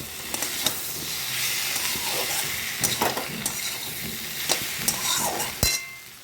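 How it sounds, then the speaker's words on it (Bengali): Chili, ginger and garlic paste fries in hot spices for a fish curry, producing a loud, steady hiss and sizzle with spatula scrapes and knocks as it is stirred. "এবার দেবো আমি লঙ্কার বাটা, আদা বাটা আর এর মধ্যে রসুন, তিনটে একসঙ্গে আমি বেটেছি, এটা আমি দিয়ে দিলাম। দিয়ে ভালো করে কষিয়ে"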